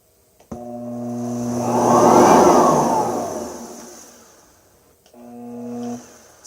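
A Hoover WindTunnel Platinum lightweight vacuum cleaner motor slow-starts with a steady hum, then a whine that rises and swells to a peak before easing down. It cuts off abruptly and restarts briefly near the end, close and loud with no talking.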